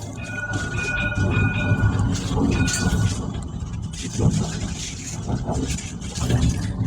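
A city tram rolls along its rails, producing a steady rumbling and rattling hum with faint squeals and passing noise, while voices talk over it inside the car.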